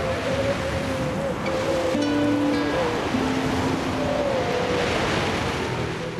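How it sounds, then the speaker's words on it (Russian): Strong wind drives high waves onto a grey seal beach, making a continuous broad roar of surf and gusts, with soft music playing underneath. "Сильный ветер поднимает не только высокие волны,"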